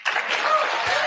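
An enthusiastic rally crowd breaks into applause, a brief, loud wash of clapping that swells quickly and holds steady.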